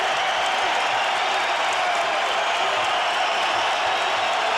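Arena crowd at the Georges St-Pierre vs Nick Diaz UFC fight, a steady loud roar of cheering and noise filling the whole moment without a break.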